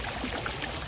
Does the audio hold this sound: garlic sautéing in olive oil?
no